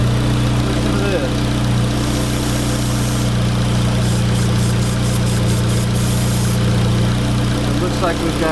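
An idling engine with a vacuum leak at the throttle body hums loud, close and steady, carrying a constant low drone, and a thin whistle rides on top of the idle throughout.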